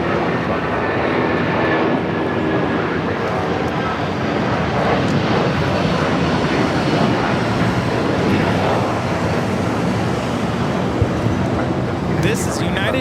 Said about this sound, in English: This is United Airlines 1260 taking off to Denver on the 757-300.